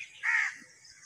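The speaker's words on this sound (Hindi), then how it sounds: "हर तरफ परिंदों के चहचहाने की आवाज़" A lone crow gives one short, nasal caw at moderate distance in a quiet outdoor setting, with no other birds clearly audible.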